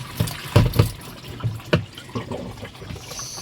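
A washing machine drum being cleaned at home with a pressurised jet of water, heard as uneven splashes and spurts hitting the inside, loud bursts in the first half thinning to softer trickles and drips, with no talking.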